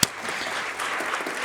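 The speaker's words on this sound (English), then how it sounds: "So they deserve a round of applause, I think." An audience at a conference of civil society organisations on the question of Palestine applauds its plenary panelists. A sharp first clap opens into a brief, dense, steady wash of applause filling the room.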